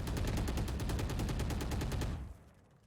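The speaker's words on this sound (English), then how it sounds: "Does hear a couple gunshots." Rapid automatic gunfire in the Valorant video game rattles out as an even, fast stream of shots for about two seconds, then cuts off and leaves a fading tail.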